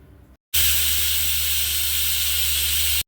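A pressure cooker lets off its whistle while boiling small potatoes: a loud, steady, continuous hiss of escaping steam that starts abruptly after a brief pause and holds for several seconds close up.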